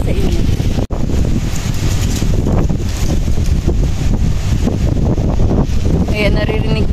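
Strong typhoon wind in Hong Kong buffets the microphone in a loud, continuous roar with gusty swells, broken by a brief dropout near the start.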